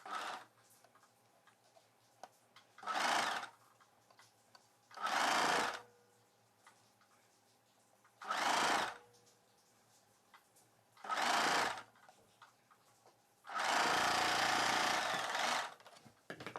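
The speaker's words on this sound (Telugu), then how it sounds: "ఇప్పుడు మనం ఈ షేప్ బెల్ట్ పార్ట్ని స్టిచ్ చేసుకోవాలి" A sewing machine stitches a shaped belt piece for a cross-cut blouse in five distinct bursts, four short runs and a longer final one, each a close, steady rapid whir separated by near-silence.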